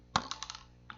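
A paper cup is tapped by hand, giving one sharp close tap followed by a few lighter, dull taps and a final soft knock, with no talking.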